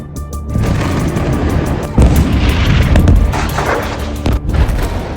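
Continuous heavy booming and rumbling blasts from a barrage of missile strikes, dense and loud throughout, with sharper detonations punching through a roaring low-end wash.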